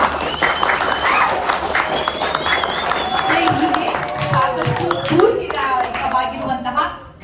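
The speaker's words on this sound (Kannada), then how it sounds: "ಜೋರಾಗಿ ಚಪ್ಪಾಳೆ ಕಟ್ಟೋಣ" Schoolchildren at a government school event applauding loudly, a dense continuous roar of clapping with cheering and excited voices mixed in, fading out at the very end.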